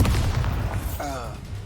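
In Hogwarts Legacy, a Bombarda blasting spell goes off as a loud, booming explosion that rumbles and fades over about a second and a half, with a voice heard alongside.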